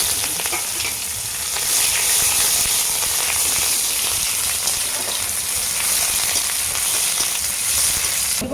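Bay leaf, two dried chillies and five-spice tempering in hot oil for a mixed vegetable dish, giving a steady, close, bright sizzle with faint crackles throughout and no talking.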